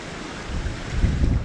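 Stream water rushing and churning over concrete blocks in woodland near an old colliery site, a close, noisy broadband wash that swells louder toward the end.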